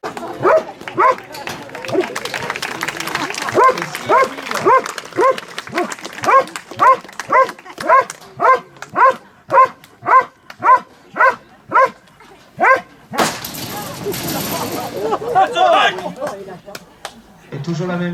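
A working dog at the gendarmerie dog training centre in Gramat barks during attack-dog bite training, loud, close and in a steady rhythm of about twenty barks, then breaks into a rush of harsh, noisy scuffling near the end.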